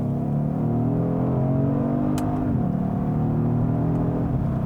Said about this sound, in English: the engine sounds really good. It makes some pretty good noises